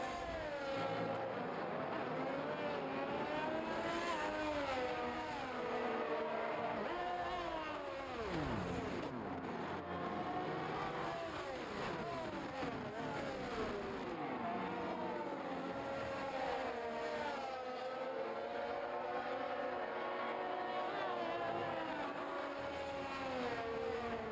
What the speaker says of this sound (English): Let's see what the Ferrari powered engine from Wolfrain is doing.